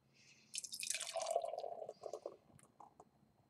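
Henhouse Billionaire Recluse double IPA beer is poured from a flip-top bottle into a glass, a short gurgling, splashing pour close by that trails off into a few drips.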